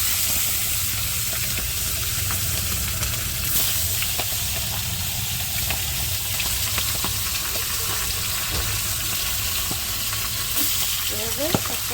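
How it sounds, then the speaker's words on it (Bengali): A fish head fries in hot oil with a continuous loud hiss, steady throughout with faint crackles and an occasional clink. "এখন আমি ভেজে নেব দেখো তেলও গরম হয়ে গেছে এই যে মাছের মাথা দিয়ে দিতে"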